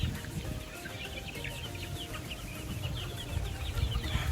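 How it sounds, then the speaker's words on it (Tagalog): Chickens at a Philippine game farm cluck and chirp in a steady low chorus, with scattered bird calls and rustling, the flock close by and getting a little louder toward the end. "nakikita natin naglalakihan yung mga manok, kumakain, lumilipad"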